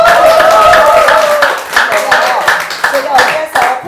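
Audience clapping at a Korean talk event, a steady, loud patter of many hands that carries on under a voice speaking over it.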